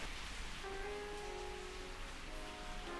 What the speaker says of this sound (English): it's not usually raining in Bangalore right now